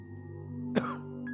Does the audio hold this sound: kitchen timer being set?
no